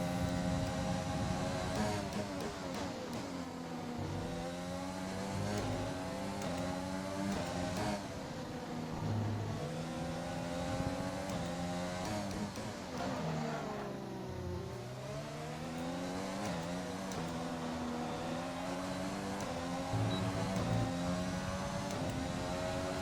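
F1 race car engines in the F1 2020 video game scream and whine, their pitch climbing and dropping with gear changes and braking in a steady, loud stream of engine sound.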